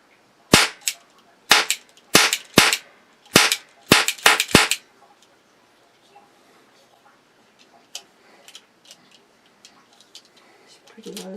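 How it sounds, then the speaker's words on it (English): A small toy cap gun fires seven sharp, loud cracks in a quick irregular burst, followed by quiet handling clicks and faint rustling. "It's pretty loud for that little gun."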